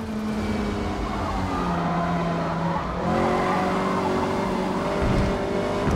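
A race car in Forza Motorsport scrubs its front tires, a continuous loud engine drone laced with tire squeal and skidding, its pitch sliding and shifting over several seconds with no voices.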